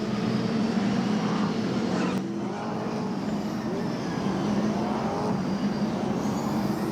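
V8 SuperTourers race cars at Hampton Downs trailing the pace car in 2012, heard as a continuous mid-level engine rumble from the pack, fairly distant and steady with no clear passes.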